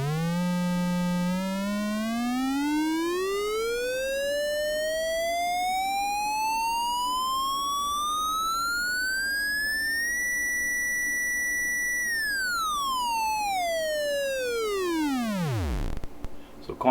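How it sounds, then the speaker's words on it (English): A raw, unprocessed 4046 VCO modular synth oscillator sweeps steadily upward from a low buzzy pitch to a high whine, holds briefly, then dives back down to a rumble, loud and continuous throughout. "So there's no processing. So what you're going to hear is what the oscillator sounds like."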